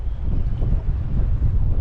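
Steady, loud wind buffeting the microphone with a low rumbling roar and no pauses, gusts on open water aboard a fishing boat.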